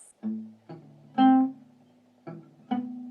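Guitar picking individual strings in a part from a song, five separate plucked notes at an uneven pace, each ringing out clearly in a quiet close recording.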